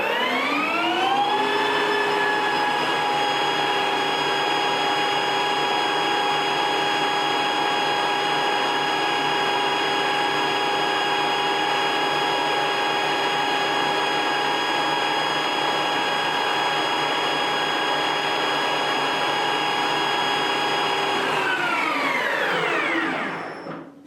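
A metal lathe hums loud and steady while cutting a shallow groove in aluminum, a constant motor whine that holds for about twenty seconds before spinning down at the end.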